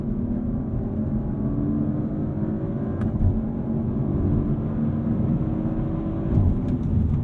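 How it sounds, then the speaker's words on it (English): An Audi RS5 Competition engine revs hard toward the rev limiter, a loud, steady, sustained drone that rises slightly near the end, with no talk. "let's run it out and hear that rev limiter."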